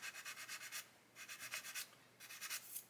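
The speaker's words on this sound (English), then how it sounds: "I'm starting to sand the tape away, so I'm going to put more pressure on the other side" Sanding masking tape on a 1/24 Airfix new-tool Spitfire Mk.IXc plastic model: quiet, rhythmic back-and-forth rubbing strokes grouped in three short bursts with brief pauses between.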